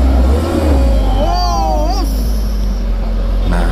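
A loud, steady engine drone from a dump truck struggling up the steep, potholed Batu Jomba climb, with a rising whine partway through and heavy low rumble throughout.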